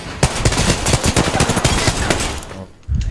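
R-301 and G7 Scout gunfire in Apex Legends rattles out in loud, close, rapid bursts that run almost continuously, then break for a brief pause before one more burst near the end.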